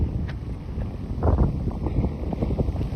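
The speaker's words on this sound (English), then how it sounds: "this wind's getting up" Strong wind near an EF2 tornado outside New Richmond, Wisconsin, rumbles and buffets steadily against the microphone in a continuous low roar with no talking.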